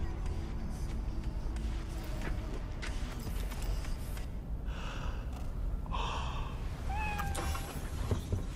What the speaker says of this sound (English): Here is the cat, here is the cat food and stuff.